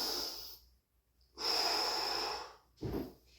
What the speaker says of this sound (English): As you can probably tell, breathing is really important with all these.